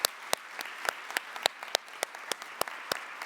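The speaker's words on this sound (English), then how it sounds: "Another round of applause to all of these outstanding NLN Research Grant recipients" Sparse applause for nursing research grant recipients, about a dozen distinct sharp claps spaced roughly evenly, as if from only a few people, fairly faint in a quiet room.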